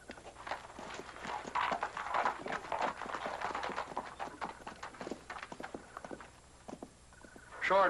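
Horse hooves clip-clop in a steady walking rhythm at moderate distance, with a voice speaking briefly over the hoofbeats and a low background hum throughout.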